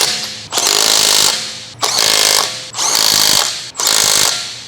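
A large electric impact wrench with a 19mm short socket hammers a lug bolt on a 2015-2018 Ford Fusion in four loud, close bursts of about a second each, separated by short pauses.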